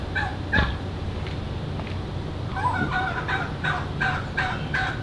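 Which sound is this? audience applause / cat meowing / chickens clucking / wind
chickens clucking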